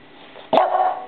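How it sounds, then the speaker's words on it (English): An English bulldog gives a single sharp bark close by during an indoor training session, cutting through quiet room tone and trailing off quickly. "No barking."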